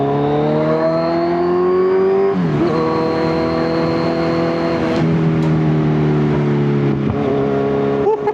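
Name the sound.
Kawasaki Z1000 motorcycle revving with exhaust backfire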